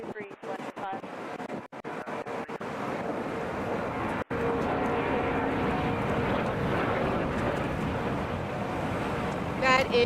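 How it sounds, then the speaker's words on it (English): Air Canada Express Mitsubishi CRJ 900 regional jet arriving at Atlanta Hartsfield-Jackson airport, a steady broad jet roar building and holding, with wind buffeting and a voice talking over it. "It's a Mitsubishi CRJ 900."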